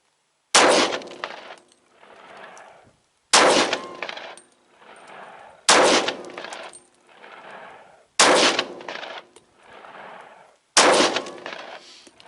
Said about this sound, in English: now we're going to do berries heavy plated 124 over long shot.